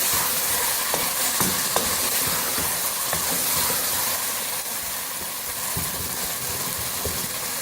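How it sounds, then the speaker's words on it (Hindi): Pumpkin curry with vegetables fries over high heat in a pan, hissing steadily with a continuous sizzle and a few faint clinks from stirring, and no voices. "अब इसको भूनेंगे तेज़ आंच पे सब्ज़ी डाल के।"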